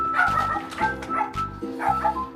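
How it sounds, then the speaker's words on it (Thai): A small dog yapping repeatedly in quick bursts, close and fairly loud, with some whiny yips mixed in. "พี่ตังเห่าอันนี้เสียง"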